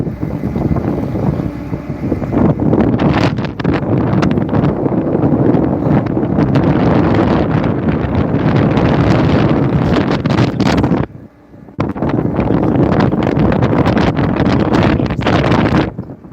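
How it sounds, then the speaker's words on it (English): Strong wind roars across the microphone aboard an Alaskan salmon gillnetting boat, a loud, steady buffeting rush that breaks off for about a second partway through and then returns, with no talking. "Wind's picking up."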